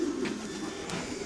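A racing pigeon coos in a low, soft rhythmic warble over a steady background hum, close by and brief, with no talk.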